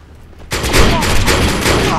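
Weapon fire in the online shooter Defiance's PvP mode, a sudden loud onset after a quiet moment, then a dense, sustained barrage of overlapping shots and blasts.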